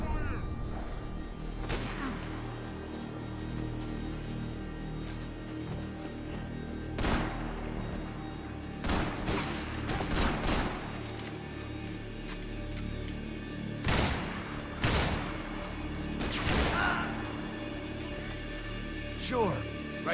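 Gunfire in the video game Max Payne 3: scattered loud shots and bursts over a steady rumbling bed, with voices talking in between.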